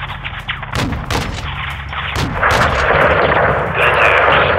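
Rapid gunfire and heavy explosions from the video game Call of Duty, loud and dense, with sharp shots at the start giving way to a continuous roaring barrage.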